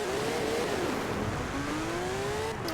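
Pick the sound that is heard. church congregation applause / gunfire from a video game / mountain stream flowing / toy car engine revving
toy car engine revving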